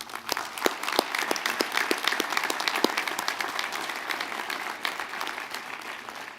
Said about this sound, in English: Join me in giving them a round of applause.